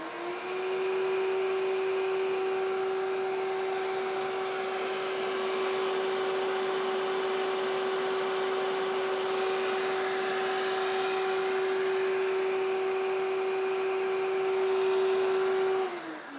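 A Midea V12 robot vacuum cleaner runs its fan in turbo mode, a loud, steady whine with a strong sustained tone over airy rushing noise that holds evenly for about sixteen seconds before spinning down at the end.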